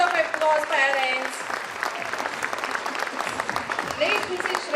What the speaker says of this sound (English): She deserves a big round of applause, parents.